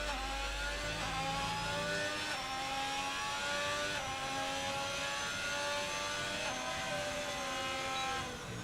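A Haas Formula 1 car in a racing video game at Bahrain, its high-pitched engine whining steadily with rising gear sweeps and brief shifts, loud and constant throughout.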